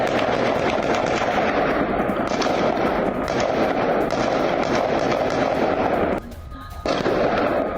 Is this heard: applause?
no